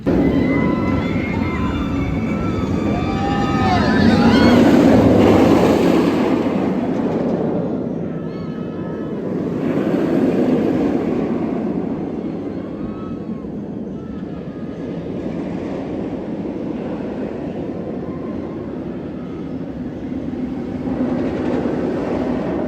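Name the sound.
Rougarou B&M floorless roller coaster ride at Cedar Point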